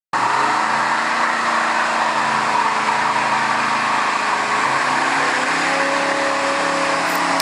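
A 1969 Pontiac GTO Judge with its Ram Air 4 400 cubic inch V8 revs loud and close, a continuous throaty roar with engine tones sweeping down and then back up, and no voices.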